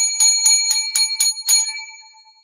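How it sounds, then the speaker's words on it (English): A bell rings six times in a quick steady rhythm, each strike bright and ringing with a clear metallic tone, the last ring fading out slowly on its own. "Seven lucky bells for this week's show."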